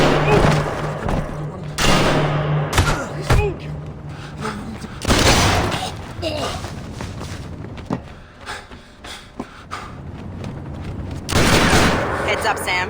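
Gunfire in the Splinter Cell Conviction video game at the Lincoln Memorial, bursts of loud shots and heavy thuds over a dense game soundscape, separated by quieter stretches.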